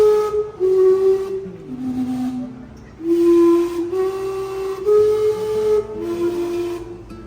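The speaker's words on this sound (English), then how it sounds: "So we're hoping to catch the steam going off." The Vancouver steam clock's whistles sound a series of loud, sustained tones of shifting pitch, with breathy hissing steam between notes, fairly close and outdoors.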